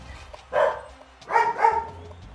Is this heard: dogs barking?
yes